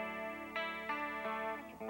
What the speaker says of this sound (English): The first is a CH1 Super Chorus that's set for a straight-ahead chorus sound like this.